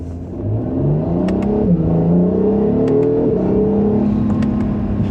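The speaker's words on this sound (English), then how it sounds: "And just a mild acceleration there." An Acura NSX hybrid supercar in Sport Plus mode pulls away from first gear under mild acceleration, its engine note climbing through gear changes, heard close and steady from inside.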